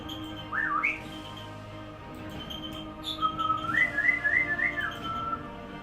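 A young female pet bird, nearly a year old, whistles in two bursts: a short rising-falling whistle early on, then a longer warbling, wavering run of notes after a pause, fairly close and clear over a low steady room hum.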